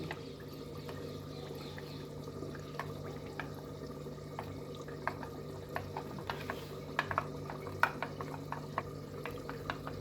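Idli batter mixed with half a bowl of curd and half a bowl of water is stirred by hand, a quiet wet swishing in the background with soft scraping and light taps against the bowl growing more frequent toward the end.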